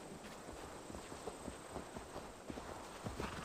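Horse hooves clop in a quick, steady rhythm in the video game Assassin's Creed Valhalla, moderately loud over a constant hiss of ambient noise.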